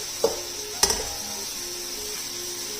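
Chopped capsicum is stirred into egg fried rice in a pan: a couple of spatula scrapes and clinks over a soft steady sizzle, close and quiet, with no talking.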